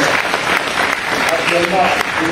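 An audience applauding Claude Saïd, with steady broadband clapping filling the whole moment and a voice talking over it.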